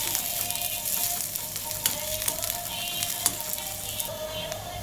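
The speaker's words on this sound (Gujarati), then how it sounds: "પછી તેમાં આપણે નાખીશું લીલો કાંદો. એ બધું સારી રીતે આપણે એને સાતળી લઈશું." Green onions sauté in a hot pan, giving a soft, steady sizzle with light stirring clicks throughout, fairly quiet and with no talking.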